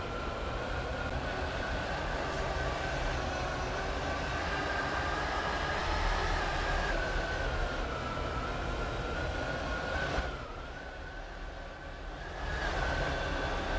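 Steady rumble and rolling hum of a Class 165/1 passenger train running on rails, heard from inside, with a brief dip in the noise near the end.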